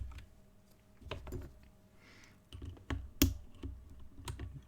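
Bursts of typing on brown tactile keyboard switches, quick clusters of muted key clicks and thocks at close range, with brief pauses between runs.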